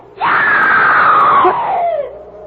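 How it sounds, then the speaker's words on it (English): A woman's long, loud scream in a radio drama, rising sharply, holding high for nearly two seconds, then sliding downward and fading, heard alone and close. "Someone screamed."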